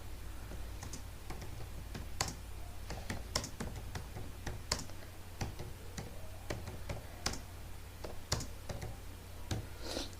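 Quiet, irregular typing on a computer keyboard, a steady stream of light key clicks with occasional sharper taps over a low background hum.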